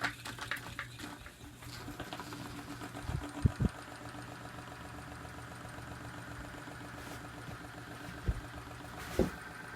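A repaired electric clip fan runs on its own with a steady, even hum and faint rattle, broken by a few brief knocks or clicks near the microphone.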